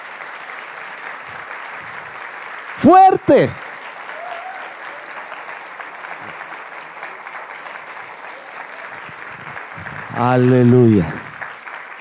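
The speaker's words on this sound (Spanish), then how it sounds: "Dele un fuerte aplauso al Señor y dele un fuerte, pero fuerte aplauso a sus pastores." Church congregation applauding during an apostolic congress service, a steady broadband wash of clapping throughout with brief shouted voices near the start and again near the end.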